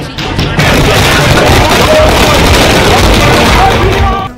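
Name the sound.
fireworks at party office celebration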